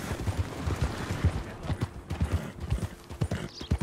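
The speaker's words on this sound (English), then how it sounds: "Let the horse recover a little bit." A horse gallops in the video game Red Dead Redemption 2, its hooves beating in a quick, steady rhythm all the way through at a fairly soft, close level.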